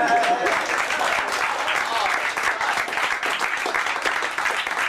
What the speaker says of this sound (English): You may applaud now.